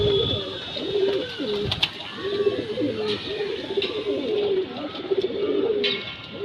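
Pigeons of a breeding pair cooing repeatedly in soft, rolling low calls, close and steady, with occasional rustles and faint background noise.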